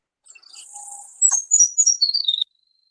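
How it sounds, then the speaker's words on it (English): A male Baird's sparrow song plays from a FoxPro electronic caller on an open prairie: a faint buzzy opening, then a bright run of high chirps and a descending trill lasting about two seconds, clear and alone. "It's a Fox Pro that is uploaded with the Bird Sparrow song."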